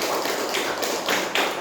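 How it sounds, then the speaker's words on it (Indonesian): Students in a classroom clap their hands together, a short patter of several quick claps at an uneven rhythm, close and moderately loud with no talking over them. "Tepuk tangan untuk teman-teman kita."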